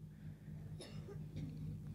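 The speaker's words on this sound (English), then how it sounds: "hearing all that coughing going on" Several people coughing in a yoga class during breathing exercises, a short cluster of coughs near the middle and another softer one shortly after, against a steady low hum of the room.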